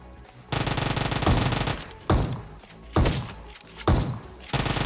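M16 gunfire in a battle royale video game rattles out in several sharp, loud automatic bursts separated by short gaps, each burst trailing off into a brief echo.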